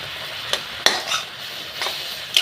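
A spoon stirs chalta (elephant apple) pickle with ground fennel in a pan over heat, a few sharp scrapes and clinks of metal against the pan over a soft, steady sizzle, close and quiet.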